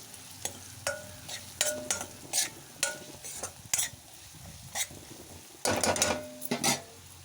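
Chilli powder and coriander powder being stirred into bitter gourd curry frying in a pan, with repeated scraping strokes of a spoon against the pan over a steady sizzle, close and fairly loud.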